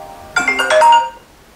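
A phone ringtone sounds as a sister's call comes in, a short bright melodic chime of several quick tones lasting under a second, loud and close, with no talk over it.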